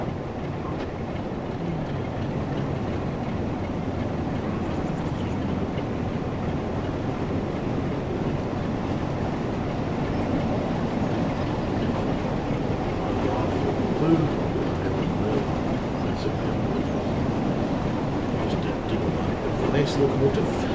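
A Class 47 diesel locomotive from the Train Sim World 6 game runs steadily: a continuous rumbling drone of engine and rolling wheels, loud and unbroken throughout.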